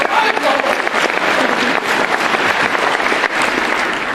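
An audience applauds steadily at a stage performance of Aladdin, dense clapping filling the room without pause, loud and close, with brief swells and voices faintly mixed in.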